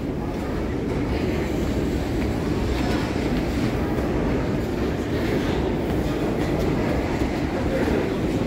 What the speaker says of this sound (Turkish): Fark ettim abi, trenler dörtlü vagonluydu.